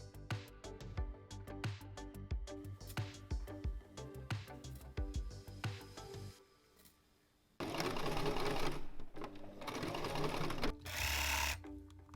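A domestic sewing machine stitches a fold onto the sleeve of a silk blouse, running in rapid bursts with brief pauses and a short quiet gap, then louder sustained whirring runs near the end.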